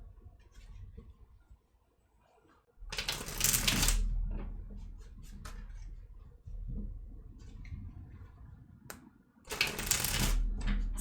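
Tarot cards riffle-shuffled in two loud close bursts a few seconds apart, with softer card handling and light rustling between them.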